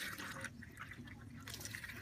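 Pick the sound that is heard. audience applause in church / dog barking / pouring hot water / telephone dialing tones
pouring hot water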